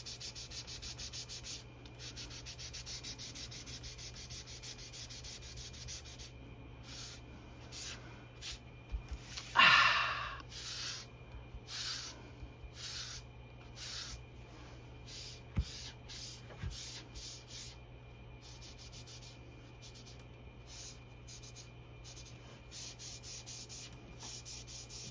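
Grime being rubbed off a Silver Age X-Men comic book, faint scratchy rubbing strokes in short irregular bursts with pauses between, close by and quiet, with one louder breathy scrape midway.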